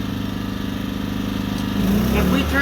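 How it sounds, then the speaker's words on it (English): An off-grid cabin generator running a vacuum cleaner throttles up, its steady engine drone rising in pitch and loudness toward the end, close by. "the vacuum cleaner takes a little while to spool up because it's drawing power, it's throttling up to provide more power"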